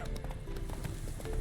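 Horse hooves clip-clopping in the video game The Witcher 3, quick close hoofbeats over a busy game background with some voices.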